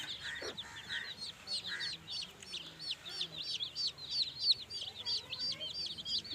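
One-year-old roosters cluck and chirp in a repeated, fairly close series of short calls over quiet outdoor background, with faint talk.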